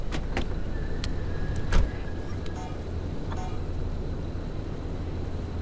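A car rolling along in the survival driving game Pacific Drive, a low, steady engine and road drone under scattered sharp clicks and knocks, one thump near the middle standing out.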